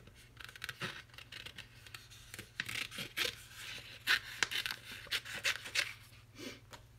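Scissors snip quietly through alcohol-ink-coloured paper at a craft table, a run of soft, close cuts and rustles with a brief gap in the middle and no voices.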